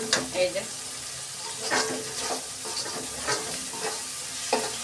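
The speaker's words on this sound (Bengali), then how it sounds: "মশলা কষানো তো প্রায় হয়ে এসেছে, দেখুন টমেটো একদম গলে গেছে আর তেলটাও বেরিয়ে গেছে।" Spice masala with melted tomato sizzles and fries in oil as a spoon stirs it, the crackle steady and close with periodic scraping strokes. A brief spoken word sits over the cooking.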